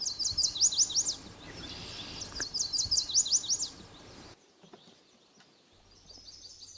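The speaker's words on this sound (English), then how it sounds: "I'm hearing more chestnut-sided and yellow warblers here" Chestnut-sided and yellow warblers sing on a pond-side woodland walk, two bright, rapid high-pitched phrases close together, then a fainter song further off after a quiet pause.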